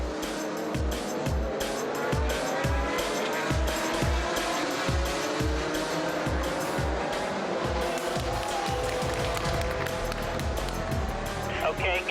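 Audi R8 endurance race cars roar around the Nürburgring circuit, their loud engines rising and falling through repeated gear changes, with tire squeal in places. A commentator talks over the continuous racing noise.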